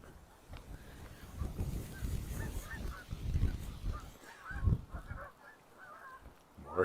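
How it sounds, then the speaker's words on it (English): Geese honk repeatedly near Wascana Creek in an urban park in Regina on an October day, with scattered overlapping calls at moderate distance over faint outdoor background rumble. "More geese."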